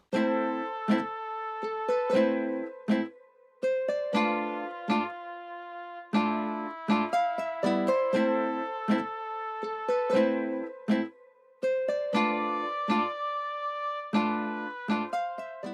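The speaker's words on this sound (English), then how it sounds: "I added these horns. It's from Spaghetti Western Contact Bank, the trumpet" A bright, brassy Spaghetti Western-style trumpet sample plays short, punchy phrases with repeated stabs and brief gaps, loud and upfront with no voices.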